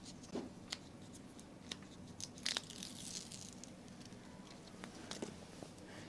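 Backing paper peels off kinesiology tape on a child's foot with soft crackling and papery rustling, broken by a few light snaps and crinkles. It stays close and quiet, with no voices.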